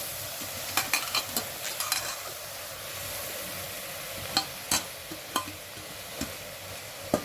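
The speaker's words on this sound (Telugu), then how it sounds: "ఇప్పుడు ఉల్లి పొరక చిన్నగా కట్ చేసుకొని వేసుకోవాలి కడుక్కొని వేసుకోవాలి" Chopped onion greens go into a hot pan and fry with a steady, close sizzle, broken by a few sharp clicks and scrapes of stirring, with no talking.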